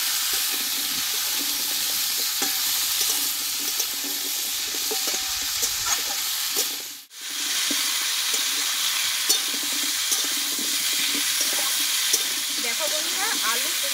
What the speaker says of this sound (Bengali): দেখো বন্ধুরা আলু কুমড়ো কিন্তু প্রায় কষানো হয়ে এসেছে